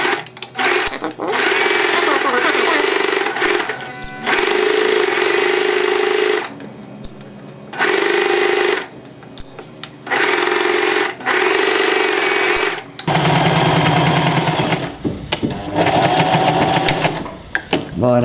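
A sewing machine stitches a small pillowcase in several loud, rapid bursts separated by short pauses, with a person talking in between runs.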